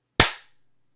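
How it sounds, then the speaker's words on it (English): A single sharp hand clap, loud and close, rings out alone in silence and decays quickly. "opening clap in 3,"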